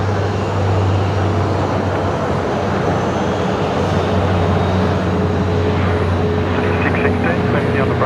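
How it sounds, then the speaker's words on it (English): A Dash 8 turboprop departs the runway at Brisbane Airport at night, heard as a steady, broad engine and propeller roar that fills the whole stretch while people talk over it. "we're just about to see probably the only Dash 8 departure off of the runway right tonight here"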